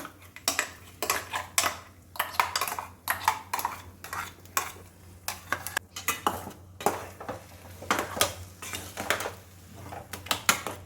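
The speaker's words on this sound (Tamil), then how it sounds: "அந்த மாம்பழ கூழை எடுத்து வச்சுருக்கோம் இல்லையா அதையும் போட்டு கொஞ்சம் எருகட்டும் அதையும் போட்டு இதில் வேக வைக்கலாம்" A spoon scrapes and clinks against a pan as mango pulp goes in to cook with semolina for mango kesari, a close, busy run of metallic taps and stirring strokes with no talk.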